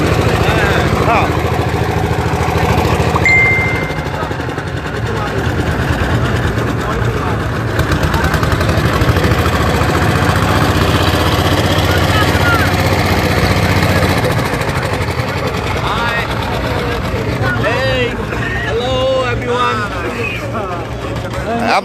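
A trawler boat's engine runs on the Meghna river, a loud, continuous low chugging drone that persists throughout while people talk over it.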